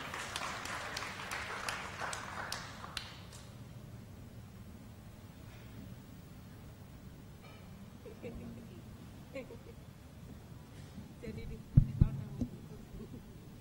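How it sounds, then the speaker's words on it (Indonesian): Applause from an audience at a live literacy discussion event, a burst of clapping at the start that fades into quiet room tone, with faint voices and a few knocks near the end. "Tepuk tangan buat Bu Murti."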